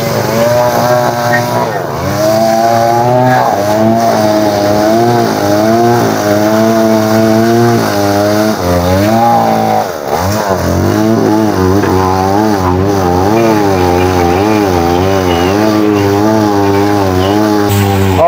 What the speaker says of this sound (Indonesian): bongkaran bangunannya nih yang digerinda satu-satu pakunya